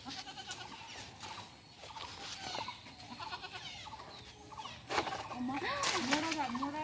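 A goat bleating in a quiet village setting, a few wavering cries late on, faint to moderate and somewhat distant, with people talking and outdoor background noise.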